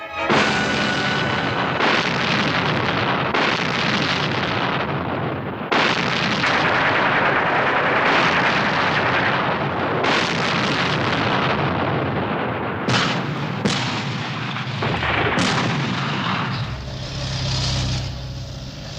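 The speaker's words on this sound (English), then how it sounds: "the old German battleship Schleswig-Holstein fired the first shot of the Second World War" Big naval guns of the old German battleship Schleswig-Holstein fire off Danzig on the Baltic, loud booming blasts following one another with rumbling echoes between them, and no talk over the barrage.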